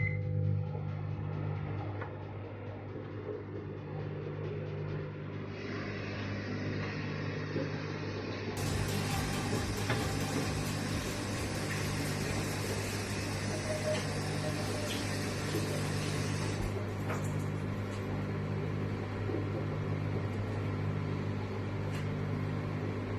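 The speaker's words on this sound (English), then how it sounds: "the butter we need melt, so we're gonna put in the microwave in a minute." A microwave oven melting butter for an apple pie hums steadily and evenly in a home kitchen for about twenty seconds, with a constant low drone and no talking.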